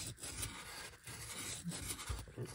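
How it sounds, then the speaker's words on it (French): A brake caliper part from an Austin Mini being sanded by hand, with quiet, close rubbing and rasping strokes in an uneven back-and-forth rhythm and no talking. "je vais poncer la partie"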